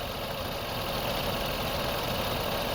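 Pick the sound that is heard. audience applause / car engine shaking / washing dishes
car engine shaking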